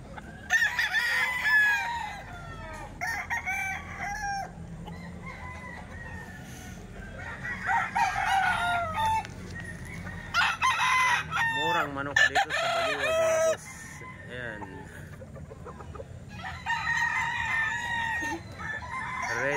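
Kelso gamefowl stags crow repeatedly at a poultry sale in Baliwag, with several close, loud cock-a-doodle calls breaking out one after another between short pauses.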